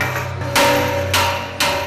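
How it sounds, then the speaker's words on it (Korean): Heavy hammer blows strike steel plates, closing the gaps between welded sheets during safe fabrication; three loud, ringing metallic impacts land about half a second apart over a steady low workshop hum. "망치로 두드려 벌어진 틈을 최대한 좁힌다."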